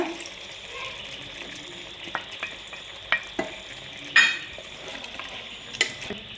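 Curd is stirred into chicken biryani masala in a pan: a spoon scrapes and clinks several times at an uneven pace over a low, steady cooking hiss, with no talking.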